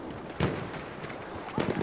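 Horse hooves clopping in the game Battlefield 1, two short bursts of galloping steps over a steady background hum of battle noise.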